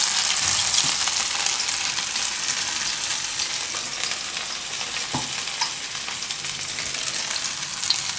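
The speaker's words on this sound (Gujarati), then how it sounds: "આ રીતે 2 બાજુ શેકી લેવાની." Peas and sabudana tikki shallow frying in oil in a pan, a steady, loud, dense sizzle that holds evenly throughout with faint occasional pops, close up and without talk.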